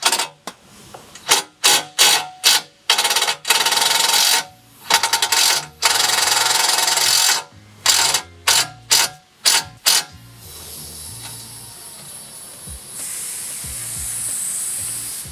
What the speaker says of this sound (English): use that same T27 and 10 millimeter and remove that upper pivot bolt